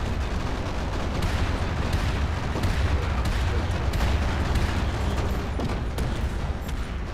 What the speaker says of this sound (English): The heavy turrets sound pretty good.